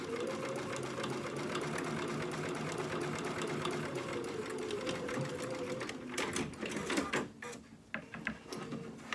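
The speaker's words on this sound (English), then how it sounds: "Just take a couple of stitches to get to the other side." Sewing machine stitching a D-ring holder, a steady close mechanical whir with rapid needle ticks, then a few slower, uneven stitch bursts and clunks toward the end.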